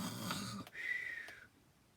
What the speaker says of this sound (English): As he slept, he snored very loudly.